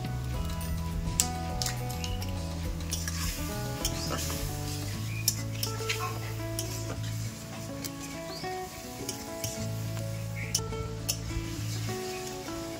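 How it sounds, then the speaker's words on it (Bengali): Close sizzling of a spice paste frying in a pan, with scraping stirs and soft squelches over a quiet musical background. "এই মশলাটাকে আমি ভালো করে একটু ভাজা করে নিই"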